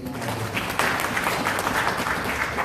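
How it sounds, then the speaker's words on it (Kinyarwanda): A church congregation applauds a preacher at a worship service: dense, steady clapping swells after a brief moment of low voices and carries on at full strength to the end. "So mumukomera amashyi mukozi w'Imana"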